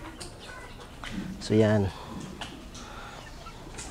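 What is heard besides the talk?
hen clucking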